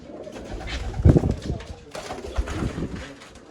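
Pigeons from an old bloodline coo in low, soft repeated bursts, strongest around the middle, with people talking over them in the background.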